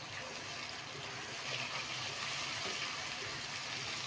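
Cumin, whole red chilies and tomatoes fry in a pan, giving a soft, continuous, even sizzle with no breaks.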